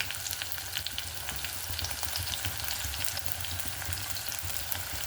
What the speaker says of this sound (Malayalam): അതിനോടൊപ്പം തന്നെ നമുക്ക് പച്ചമുളക് ഇട്ട് കൊടുക്കാം കേട്ടോ.